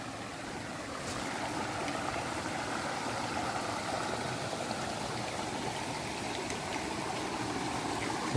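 A waterfall stream in the Veerappan forest area pours over rocks in a steady, dense rush of water that fills the whole stretch evenly and close by, with no voices.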